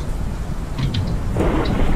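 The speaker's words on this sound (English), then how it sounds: "this rain is really fucking loud" Rain and rumbling thunder inside the horror game Pacify, a loud continuous wash with a deep rolling rumble that swells toward the end.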